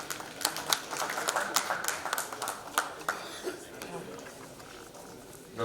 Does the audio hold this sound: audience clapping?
yes